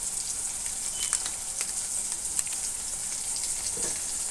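Steady, crackling sizzle of cauliflower mash frying in a pan with Kashmiri chili powder and salt, close and continuous, with occasional stirring scrapes over the hiss.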